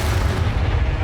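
A spell cast in the video game Hogwarts Legacy, Expelliarmus, lands as a dense, loud low boom with a rumbling body that fills the whole short moment, no speech over it.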